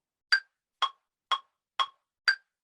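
Five evenly spaced, sharp electronic tempo clicks from music software, like a metronome, each short and crisp with nothing else in between.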